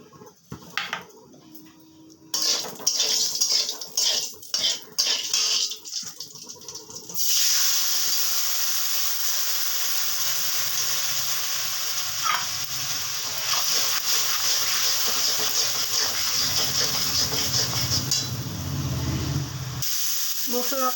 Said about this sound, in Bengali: এটাকে এখন দিয়ে মশলাটাকে কষিয়ে নিচ্ছি।